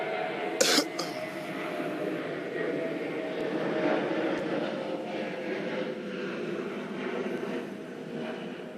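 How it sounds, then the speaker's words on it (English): A fixed-wing airplane passes overhead, a steady low drone that swells gently and then fades slightly, with a brief cough-like sound near the start. "hold for plane. Hold for plane."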